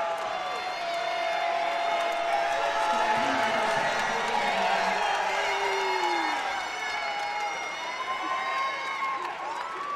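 A wrestling arena crowd at a 77 kg final roars steadily for about ten seconds, a dense continuous wash of cheering and whoops with a commentator talking over it.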